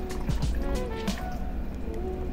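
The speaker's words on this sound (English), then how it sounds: "I'm gonna put some water again," Water poured into a pot while preparing Peruvian arroz con pollo, a short close splashing and trickling fill with dripping, clattering kitchen sounds around it.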